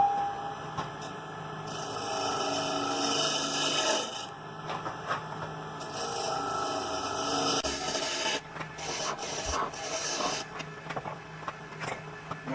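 Wood lathe turning a tenon on the bottom of a wooden bowl blank, giving a steady broadband scraping hiss of the gouge against spinning wood that runs continuously with several brief interruptions and changes in tone.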